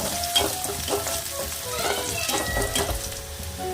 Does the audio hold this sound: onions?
yes